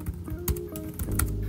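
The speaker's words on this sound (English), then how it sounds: "I like the feel of the keyboard on here." Keys tap on a Framework Laptop 12 keyboard in a quick, uneven run of close, crisp clicks and thumps over a low hum, with no talk.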